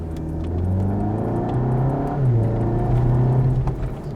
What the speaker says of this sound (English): Bit of engine noise,